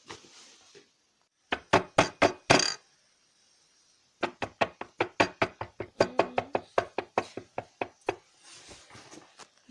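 Loud knocking on a door at three in the middle of the night: a quick burst of raps, a pause of about a second and a half, then a long run of steady, evenly spaced knocks, close and sharp against near silence.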